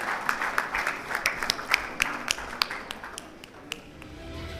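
Audience applause at a summit, a scatter of distinct claps from a modest crowd, sharp and fairly close, thinning out toward the end with no talk.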